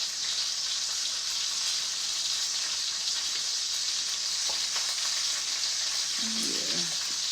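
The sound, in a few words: food being stirred and frying in a pan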